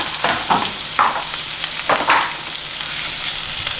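Chorizo, yellow onion and yellow squash stirred in a hot pan, with a steady close sizzle and several distinct scraping strokes of the spoon through the food in the first half.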